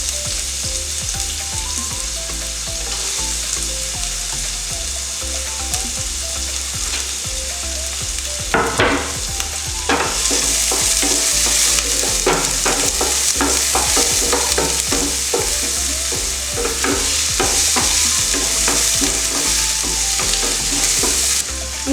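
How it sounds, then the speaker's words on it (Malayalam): Chopped onions crackle and sizzle in hot coconut oil, a steady frying hiss that swells louder once they hit the pan, with a spoon scraping and stirring repeatedly through the mix. "ഇനി അതിലേക്ക് നമ്മൾ അരിഞ്ഞു വെച്ചിരിക്കുന്ന സവാള ചേർത്ത് കൊടുക്കാം"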